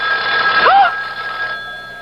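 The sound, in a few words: telephone ringing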